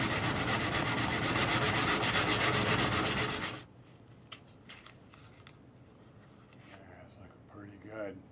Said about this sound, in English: to a finer grit of sandpaper, and this sanding step is going to really smooth out the